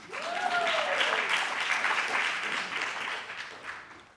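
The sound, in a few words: audience applause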